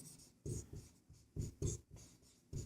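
Chalk or marker strokes on a board while a maths solution on surface area is written out, a series of short scratchy bursts in uneven rhythm, close and fairly quiet, with no talking.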